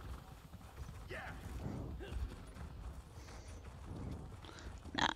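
Horse hoofbeats while riding in Elder Scrolls Online, a soft clip-clop with faint creaks under steady background game ambience, moderately quiet, with a brief louder hit at the end.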